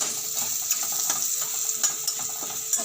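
Onion, green chili, garlic and cumin sauté in a pan, giving a soft, continuous sizzle with light stirring taps close by and no one speaking.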